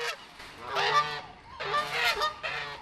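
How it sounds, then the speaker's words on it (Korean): Water birds such as geese honk loudly in a large zoo waterfowl aviary, with three bursts of overlapping honking calls separated by brief pauses. "여기는 큰 물새장이라는 곳이어서 이제 물새들이 사는 공간이에요"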